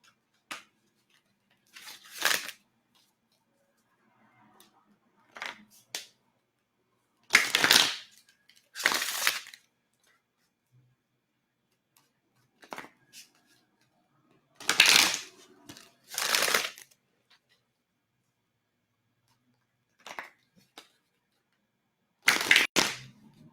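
Tarot cards shuffled by hand in short, crisp bursts, often in quick pairs, separated by quiet pauses, close and moderately loud.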